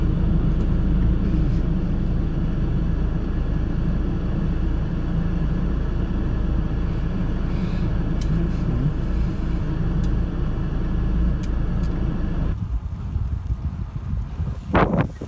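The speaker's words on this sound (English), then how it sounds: "Now I need to make it back down this mountain with my two-wheel drive," Two-wheel drive car on winter tires descending a mountain road, a steady loud low rumble of engine and road noise with wind buffeting the microphone throughout, easing slightly near the end.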